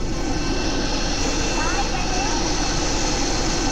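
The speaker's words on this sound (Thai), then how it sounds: "เครื่องบินตก" A video game airplane gives a loud, constant engine roar that holds steady throughout, with voices talking over it; no distinct crash impact stands out.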